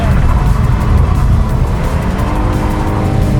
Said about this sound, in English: In the car, first test drive. All right, let's get sliding, I guess.